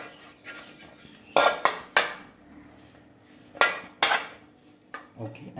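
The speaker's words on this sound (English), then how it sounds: "Just spread pure ghee all over first." A metal spoon clatters and scrapes inside a pot or handi while pure ghee is spread over it before biryani layering, several sharp clinks and knocks standing out against quiet gaps.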